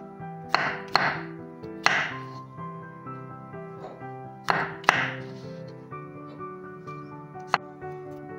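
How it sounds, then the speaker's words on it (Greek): A knife cuts champignon mushrooms into thick slices on a board, giving several sharp knocks spaced irregularly, close and distinct over a steady background of sustained music tones. "Τα μανιτάρια είναι καλό να τα κόβουμε σε χοντρές φετούλες"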